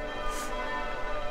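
A wedding bell in the game Old Man's Journey rings once, a sustained metallic tone that hums and slowly fades, moderately loud and alone.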